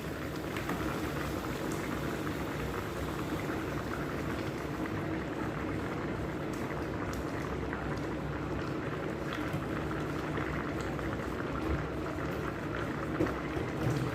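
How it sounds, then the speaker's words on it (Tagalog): Chicken frying in hot oil in a pan, a steady dense sizzle and crackle that continues evenly and fairly close throughout, with no talk. "Now, lalagyan na natin siya ng oil para ma-fry na siya."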